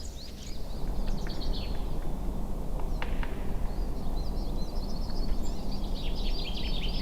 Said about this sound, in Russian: С самого утра, несмотря на прохладу и наличие снега, опушка наполнялась пением птиц